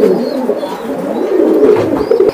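Pigeons cooing close by, soft throaty warbling calls overlapping continuously, with a faint flutter or shuffle in the background.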